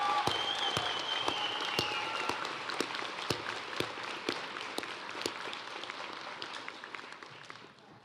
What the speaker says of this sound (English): Please help our graduates and I give the staff of Harold Ferguson High School one more well-deserved round of applause.